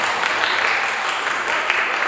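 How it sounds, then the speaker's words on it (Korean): Audience applause at a Korean women's policy forum session, a steady broadband patter of clapping filling the whole moment at even loudness with no break. "박수 쳐주시기 바랍니다"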